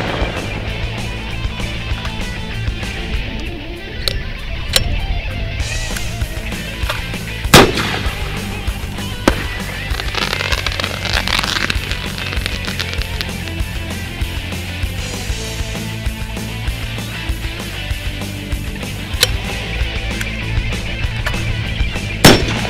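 Fireworks go off at a 4th of July backyard celebration, several sharp isolated bangs spaced seconds apart over a steady outdoor background, some loud and close, others fainter.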